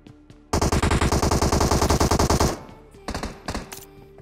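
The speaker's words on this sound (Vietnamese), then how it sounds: "Bắn nhau bên kho kìa, xa kho." Gunfire in PUBG Mobile: a loud two-second burst of rapid automatic fire in an even rhythm, then a few scattered single shots at lower level.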